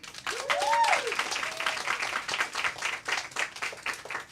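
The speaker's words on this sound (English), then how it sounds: "Can we give one more round of applause?" An audience at a memoir book event gives a round of applause, lively clapping with a couple of cheering voices early on, moderately distant and tapering unevenly.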